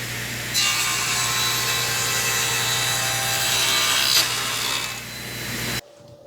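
A table saw cuts a 60-degree angled end on a piece of wood, a loud, steady, close buzzing rasp of the blade through the board that swells slightly near the finish, then stops abruptly.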